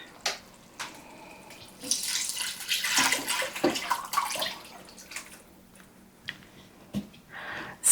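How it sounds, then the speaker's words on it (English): Four cups of chicken broth poured into a pot of Italian vegetable lentil soup, a close liquid splashing and gurgling that swells in the middle and fades into scattered drips and knocks. "now then I'm going to be adding in my chicken broth"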